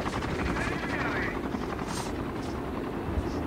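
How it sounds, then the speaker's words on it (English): A helicopter flying around in a battle royale video game, a loud continuous rotor thrum that holds steady throughout, with a voice talking over it. "And there's this chopper really moving around over here."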